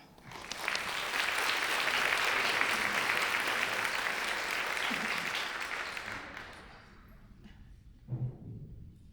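An audience applauds to welcome a speaker onto the stage at a live event, a dense, steady wash of clapping that swells, holds, then fades, followed by a few scattered claps and faint sounds.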